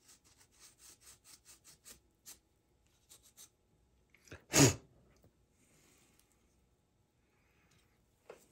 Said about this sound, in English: give it a quick scrub with the scrubby pad